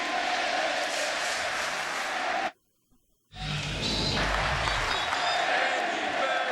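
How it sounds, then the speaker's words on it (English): A baseball stadium crowd cheers loudly for Yankees pitcher Andy Pettitte as he leaves the game, a dense continuous roar broken by a short gap of silence before it resumes. "They had an Andy Pettitte cheer going when he left the game"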